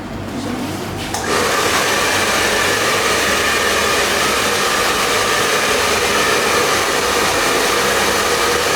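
Salon hair dryer switching on and blowing a loud, steady roaring whoosh at close range, running continuously after the start.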